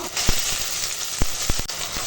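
Onion, green chili and ginger-garlic paste frying in a pan, a steady hiss and sizzle with a few sharp ticks and pops throughout.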